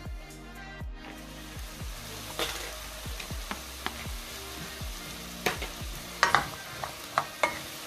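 Chicken and carrot browning in a pan for a country-style chicken dish, a steady low sizzle broken by frequent stirring clatters and scrapes of a utensil, no talk.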